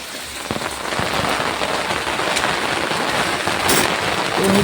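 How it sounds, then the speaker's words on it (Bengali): Heavy rain pours steadily on a rooftop, drumming loudly and continuously on an umbrella held overhead, a dense unbroken hiss with no voices. "বৃষ্টি কিন্তু ভাই প্রচুর পরিমাণে পড়ছে,"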